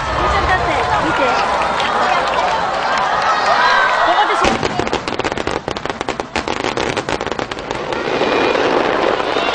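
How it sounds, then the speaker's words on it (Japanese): Festival fireworks in Kashiwazaki, Japan, with a hundred shells launched at once, crackle and pop densely and loudly throughout, first as a continuous roar, then as a rapid barrage of sharp bursts, with crowd noise underneath. "100発一気に心を込めて打ち上げ開始です。"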